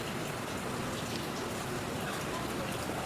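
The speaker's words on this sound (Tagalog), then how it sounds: "tag-ulan, maulan pala, hindi tag-ulan." Steady rain falling outdoors, a dense even patter of drops that stays constant and fairly faint throughout.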